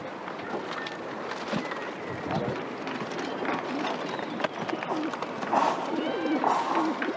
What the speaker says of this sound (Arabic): ده حمام حسن بني